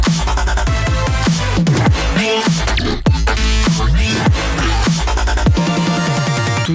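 A remix hits its electronic drop: loud, dense synths, punchy bass hits and a busy stop-start rhythm with one brief cutout, no voices.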